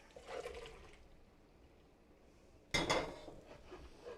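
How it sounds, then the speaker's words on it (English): Cooked white, yellow-fleshed potatoes are drained, and the cooking water pours in two short splashing bursts, the second louder and closer, with quiet kitchen clatter between them. "So we're going to drain the potatoes"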